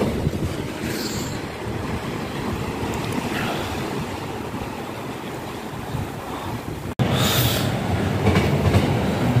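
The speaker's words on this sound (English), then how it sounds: "Service passing now is Scotrail 156442, working 1 Lima 95 Glasgow Central to Carlisle" Scotrail Class 156 unit 156442, a Glasgow Central to Carlisle service, rumbles past close by with steady rolling and wheel noise, a brief break, then a loud renewed surge of rail clatter and wind.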